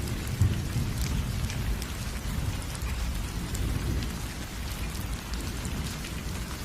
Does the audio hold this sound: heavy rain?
yes